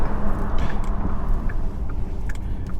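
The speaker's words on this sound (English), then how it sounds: "That was a little tunnel run with the whirring noise." A 2022 Porsche Taycan RWD electric car runs through a tunnel, a loud, steady wash of road and motor noise with a faint whirring tone, echoing continuously without talk.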